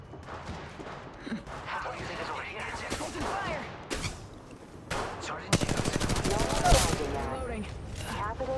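Automatic gunfire in the mobile battle-royale game Apex Legends, bursts of rapid shots growing louder and denser toward the end, under in-game voice callouts and talk.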